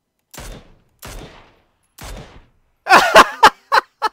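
Gunfire in the video game PlayerUnknown's Battlegrounds: three single spaced shots followed by a quick burst of four or five louder shots, sharp and close, with no talk.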